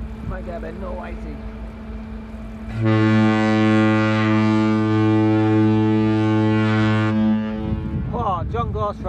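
A boat's deep horn at the docks beside a lock gate sounds one long, loud, steady blast of about five seconds, with wind noise and someone talking before and after.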